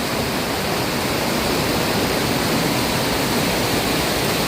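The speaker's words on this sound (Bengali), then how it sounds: "এত সুন্দর সুন্দর ওয়াটারফলস ক্রিয়েট হয়ে গেছে" Heavy roadside waterfall swollen by monsoon rain, a steady, dense rushing roar of falling water that stays loud and unbroken throughout.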